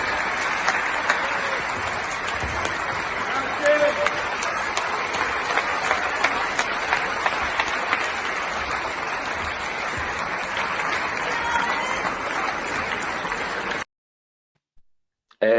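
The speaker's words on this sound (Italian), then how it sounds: "È la nostra medicina, l'applauso finale." Final applause from a theatre audience at Teatro Zancanaro in Sacile, a dense, sustained wall of clapping filling the hall for about fourteen seconds before cutting off abruptly into silence.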